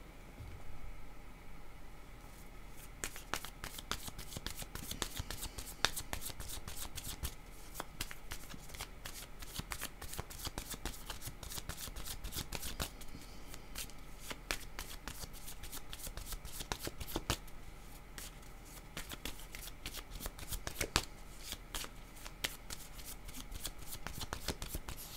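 Tarot cards being shuffled by hand: a long, steady run of soft, rapid riffling clicks and flutters, close and fairly quiet, continuing for the whole stretch with brief pauses.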